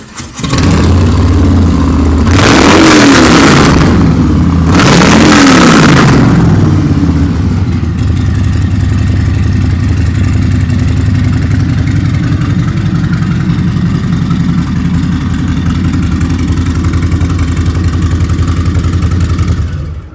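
A 2020 Harley-Davidson Low Rider's 107 cubic inch (1,745 cc) Milwaukee-Eight V-twin blips twice in loud throaty revs, then settles into a deep, steady, lumpy idle for the remaining stretch, close and alone.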